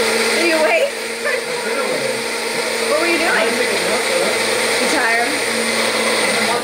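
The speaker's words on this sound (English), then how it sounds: "Gotta blend these first." A blender whirs loudly and steadily as it purees ingredients for a vegan holiday pie, with people talking over the motor throughout.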